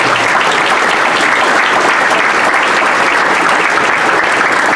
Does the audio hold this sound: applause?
yes